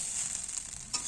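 Vegetables fry quietly in a pan for chowmein, a soft, even sizzle with faint stirring scrapes heard close up, with no talking.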